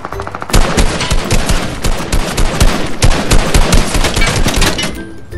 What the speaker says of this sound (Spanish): Entonces lo que hacemos es disparar.